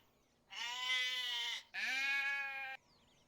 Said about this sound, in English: the first sound that came out was a goat call